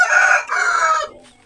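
A rooster crows once, close and loud, a strained cock-a-doodle-doo with a brief dip mid-call before trailing off, on a goat-raising farm.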